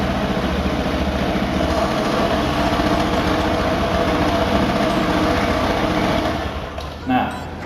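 A scooter with a CVT transmission idling, giving a steady, loud, close-up mechanical drone that runs continuously, then dips and eases off near the end.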